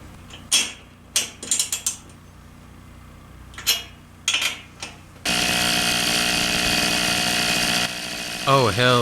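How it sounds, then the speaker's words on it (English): A restored Tomos moped engine starts up after several ratcheting mechanical clicks and pulls, then runs with a steady buzzing drone, a revving rise near the end. "A quick ride up and down the street. That's it. I love you, moped."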